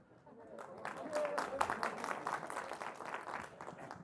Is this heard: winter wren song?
no